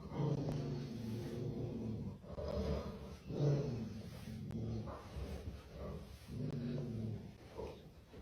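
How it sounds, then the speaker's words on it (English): Low, rumbling dog growls come in repeated pulses, close but faint, with brief huffs and snorts between them and no clear sharp barks. "she started barking, and she growled."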